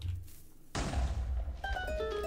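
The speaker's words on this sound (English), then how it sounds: "Let's drop the bomb here, because we managed to gain a couple bombs from the creepers." A bomb detonates in modded Minecraft survival, starting with a sudden close thud and blast noise that crackles on, with tonal game chimes rising toward the end.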